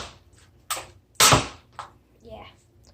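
A Nerf Double Strike pistol fires foam darts, giving a couple of sharp pops, one louder than the other, close by, with a voice talking briefly around the shots.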